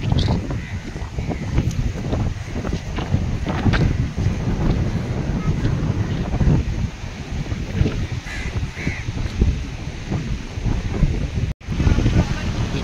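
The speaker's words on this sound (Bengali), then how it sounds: "বিচের ধারে প্রচুর হাওয়া" Strong wind gusts buffet the microphone on Colva beach beside the Arabian Sea in Goa, a steady loud rumble throughout with faint crow calls and background voices.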